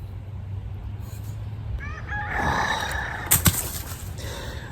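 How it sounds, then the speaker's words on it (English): A rooster crows a few times in the middle distance over steady outdoor background noise, with a couple of sharp knocks near the end. "the rooster's going crazy"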